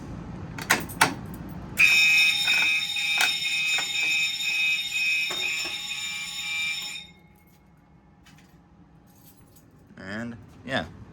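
A fire alarm system sounds during a routine test: a loud, steady electronic tone comes in abruptly and holds for about five seconds before cutting off. Brief clicks and knocks come before it, and a faint voice is heard near the end.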